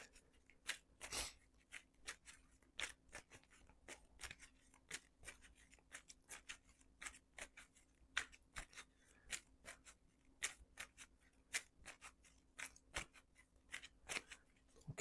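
Marvel Champions game cards are shuffled in quick, irregular riffles and snaps, faint and close, with no talking during the shuffling.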